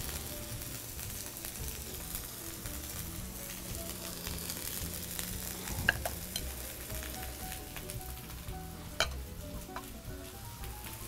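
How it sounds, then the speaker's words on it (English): Brined pork chops sizzle and fry in a hot pan, a close, continuous crackling hiss with occasional sharper pops and clinks. "How awesome is that sizzle?"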